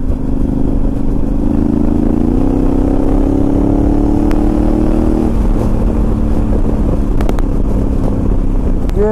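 Honda Africa Twin DCT motorcycle fitted with a Remus exhaust, ridden at a steady pace: a loud, continuous engine drone that shifts pitch with each gear change, under steady wind noise.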